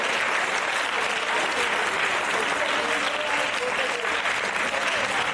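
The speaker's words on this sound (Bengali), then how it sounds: "জোরে হাততালি হোক।" Students at the prize-giving ceremony of an inter-school under-14 football tournament clap loudly, giving sustained, dense applause from a large group that fills the whole stretch at an even level.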